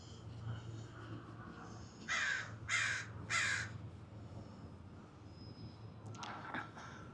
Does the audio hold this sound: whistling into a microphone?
no